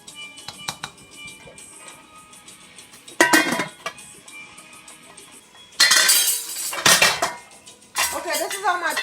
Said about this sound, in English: You just stir it up and let it consume